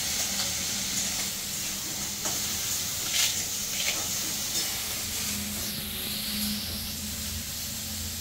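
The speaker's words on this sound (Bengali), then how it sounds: "11টায় পাপানের স্কুল ছুটি, আর এদিকে এখনো ভাত ভাজাটা হয়নি, কারণ অনেক কিছু সবজি দিয়ে করছে, তো সবজিগুলো একটু ভাজা হতে তো সময় লাগবে" Vegetables for fried rice sizzle and hiss in a hot pan, a steady close frying sound with occasional stirring scrapes and bursts of steam.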